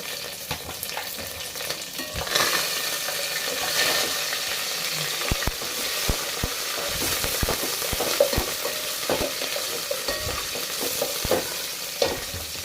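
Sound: mint, curry leaves and green chillies frying

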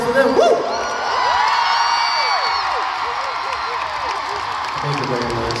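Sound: concert crowd applause and cheering

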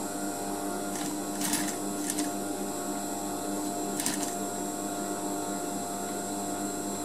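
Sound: sewing machine stitching a zipper fly

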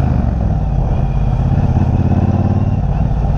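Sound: Triumph Bonneville Bobber motorcycle riding over a bump

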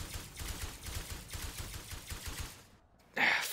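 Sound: gunfire in the video game Osiris New Dawn

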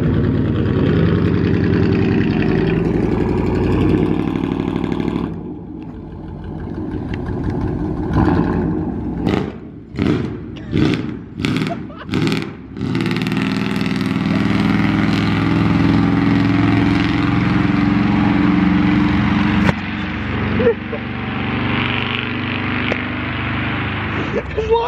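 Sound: truck engine running with muffler and resonator removed

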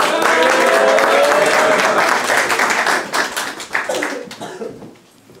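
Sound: audience applause

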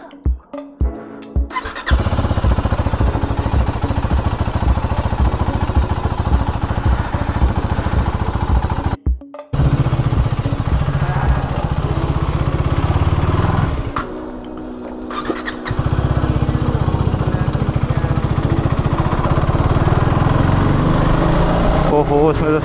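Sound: KTM Duke 390 motorcycle engine cold start and idling

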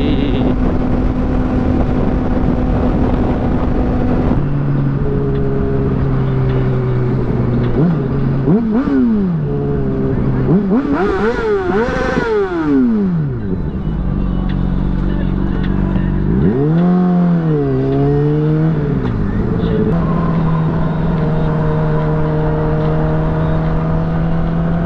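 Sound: car driving on a bumpy freeway

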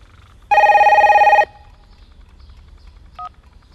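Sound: telephone ringing

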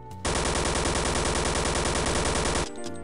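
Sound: AK rifle gunfire in Counter-Strike video game

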